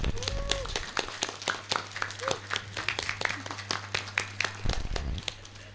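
Sparse, distinct hand claps from students and teachers at a National Santri Day school assembly at a vocational high school, individual claps ringing out over a low steady hum.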